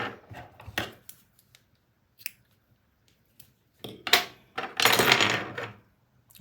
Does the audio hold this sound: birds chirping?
no